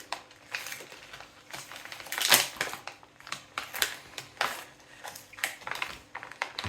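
A knife saws through rye bread in quick, irregular crunchy strokes, close and fairly faint, with crumbly crackling bursts and no talking.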